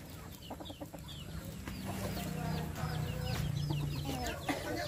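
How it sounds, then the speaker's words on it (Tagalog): Native chickens cluck repeatedly at close range in an outdoor yard, their choppy clucks and drawn-out calls overlapping against a background hum. "Uh, native chicken."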